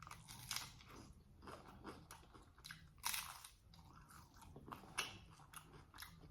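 Crunchy tacos bitten and chewed close to the mic, with sharp crackling crunches at irregular intervals over softer chewing, no talk.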